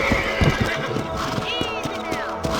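A horse in the Red Dead Redemption video game lets out a loud, close whinny over steady clip-clop hoofbeats as the rider reins it in, with a voice briefly heard.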